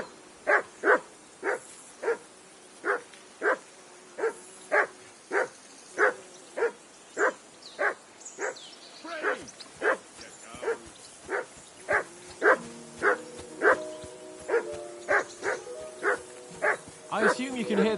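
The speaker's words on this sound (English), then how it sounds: "I assume you can hear that damn dog of yours barking." A dog barks repeatedly at a riverbank camp in the medieval video game Kingdom Come Deliverance 2, loud regular woofs about every half second, with faint background sounds and a few softer yips toward the end.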